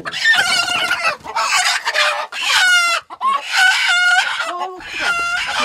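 Chickens clucking and a rooster crowing loudly nearby, repeated calls overlapping in a busy coop on a mountain farm in Jirisan, Korea.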